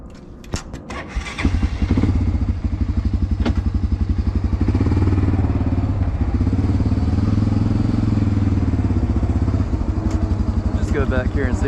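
A lifted Honda 300 ATV with a four inch stretch and 29.5 Assassinator tires runs close by, its engine starting with a few clunks and then settling into a loud, steady chugging idle and ride.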